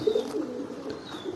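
Low, throaty cooing from domestic pigeons near their loft, a short rolling coo repeated closely and fairly loud against quiet surroundings.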